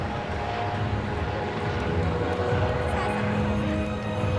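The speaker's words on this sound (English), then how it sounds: "this aircraft is conducting an observation" Aircraft flying over during a military observation run at the LIMA 2017 show: a continuous, loud engine drone with a broad roar and propeller-like texture, steady throughout, with a voice talking under it.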